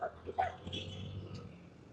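A dog barks a few times at a distance over steady traffic rumble in Parañaque City, the yelps brief and sharp early on, fading into road noise.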